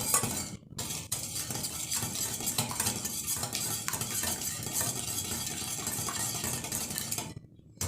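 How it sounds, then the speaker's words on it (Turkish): Two eggs and sugar being whisked together in a mixing bowl for a simple chocolate chip cookie dough, a steady, close scraping and clinking of utensil against bowl that runs continuously with no talking. "Öncelikle şöyle bir güzel bunu bir karıştıralım"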